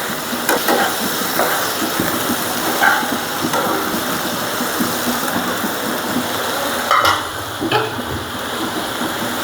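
Taro stolons and taro corms frying in oil give a steady, moderately loud hiss that carries through, with a few brief clicks and knocks from the pan.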